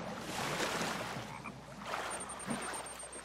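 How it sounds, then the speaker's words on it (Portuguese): Frog croaking in water in the video game The Forest, a faint low croaking heard alone amid quiet ambient water and background noise. "Tem sapo aqui na água."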